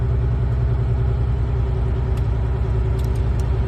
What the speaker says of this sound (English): Now we have to rev the RPM again and put it back to 1200